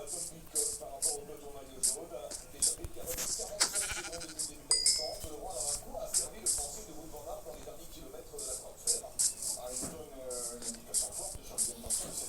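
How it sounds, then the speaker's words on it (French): Sheep bleat repeatedly in quick, wavering calls among clinks and game sounds in Minecraft, while a person talks over them. "C'est le gang des moutons ici ou quoi?"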